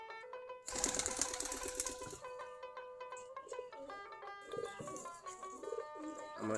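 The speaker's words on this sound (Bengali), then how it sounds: "সবগুলা দেশি গিরিবাজ কবুতর।" Several desi Giribaz pigeons coo in a loft, with soft repeated calls layered over a busy backdrop of steady bird chatter and some mechanical rattling, fairly close and moderately loud.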